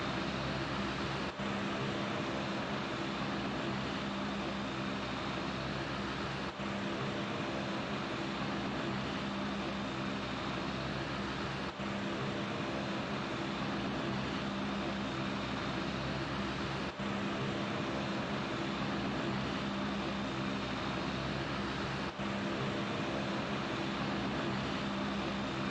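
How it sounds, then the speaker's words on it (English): The Blue Angels C-130 Fat Albert propeller plane drones in a Roblox game, a steady, even engine hum with a buzzing propeller tone that runs unchanged throughout, faint beats recurring every few seconds. "Ladies and gentlemen, the Blue Angel C-130,"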